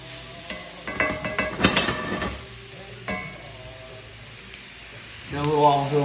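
Olive oil heats in a skillet with a soft sizzle and stirring clatter, louder bursts early then quieter, with a rise again near the end; a voice talks over parts of it.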